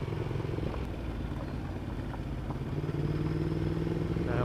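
A motorcycle riding along a gravel road on a British Columbia road trip, its engine a steady close drone with faint crunching and rattle throughout, rising slightly near the end.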